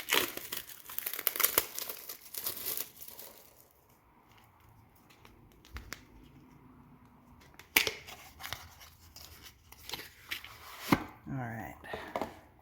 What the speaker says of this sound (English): we are double wrapped. Get under that plastic again.